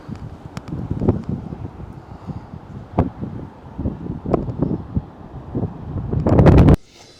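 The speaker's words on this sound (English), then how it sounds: "It's windy out there." Strong gusty wind batters the microphone in repeated thumping bursts over misty waters, building to a loud roar before cutting off abruptly.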